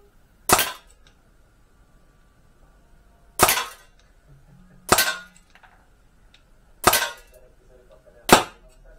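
An Artemis CP400 air pistol fires Geco Superpoint pellets, five sharp, loud, close cracks spaced a second or two apart, each with a short metallic ring, with quiet between shots.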